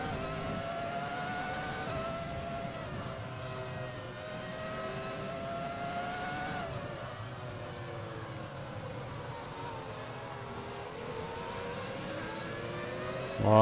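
Formula 1 race car in F1 2020 on a rain-soaked Grand Prix track, its engine note rising and falling in steady harmonic sweeps as it accelerates smoothly and loudly throughout, with no speech.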